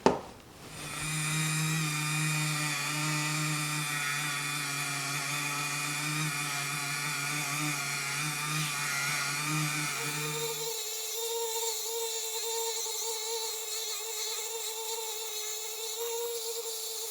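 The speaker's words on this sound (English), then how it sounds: "I'm going to do almost all of this cleanup with these little, I just call them plastic wire wheels" A Dremel rotary tool fitted with plastic wire wheels scrubs rust and grime off a 1950s Craftsman metal tool chest. It makes a close, steady high-pitched whine that shifts to a thinner tone partway through.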